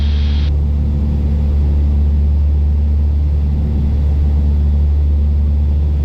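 Piper Aztec twin-engine airplane in flight on a windy, cloudy day, a steady loud low engine drone filling the cabin throughout, with a brief higher tone at the start and no talk.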